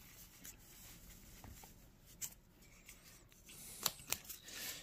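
A square sheet of origami paper is creased and folded by hand for a lidded box model, with soft rustling and a few crisp, close paper snaps toward the end, quiet overall.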